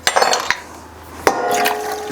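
A quart of diced tomatoes is dumped into a good-sized pot already holding French onion soup, giving a few wet plops and splashes with quiet gaps between.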